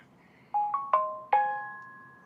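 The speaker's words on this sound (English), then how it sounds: "Okay, enough notifications." Phone notification chimes: four rising bell-like tones in quick succession, each ringing out and decaying, the last one longest, clear against a quiet room background.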